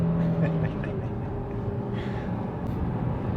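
A SAAB 9-5 Aero estate accelerates hard from a standstill toward 80, its engine droning steadily inside the cabin with a faint whining tone early on and a constant road roar underneath.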